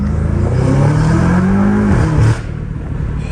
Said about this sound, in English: Second gear pull.